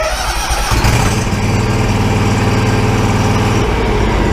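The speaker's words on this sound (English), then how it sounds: "Okay, now I can start this machine. It's a warm start this time, so there's no choke." Exmark riding lawn mower engine cranking and catching on a warm start without choke, then settling into a steady rumbling idle for several seconds before the tone shifts.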